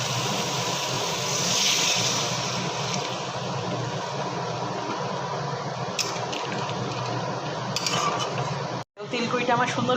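Spice paste in mustard oil for koi fish curry bubbles and sizzles loudly and steadily in a pan, with faint metal clinks and a brief sharp knock near the end.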